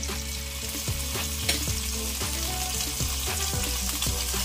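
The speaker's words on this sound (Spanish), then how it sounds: "Vamos a dejar que estas aquí se sofrían." Sausages sizzle steadily in a hot pan for caramelized sausages, a constant close frying hiss broken by a few soft clicks and stirring taps, with no voices.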